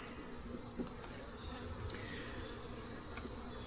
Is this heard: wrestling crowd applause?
no